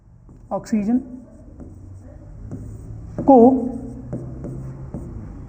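Writing on a board during a biology lesson, with soft scratchy strokes and taps beneath a voice speaking close by.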